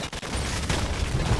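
Gunfire from units in a Command & Conquer: Kane's Wrath skirmish, a dense continuous rattle of rapid shots with low booms, steady and loud throughout with no talk.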